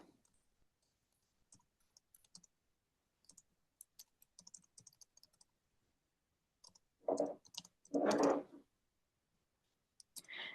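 Someone types an email on a computer keyboard in a quiet room, with scattered soft key clicks that build into a couple of louder bursts of rapid tapping near the end.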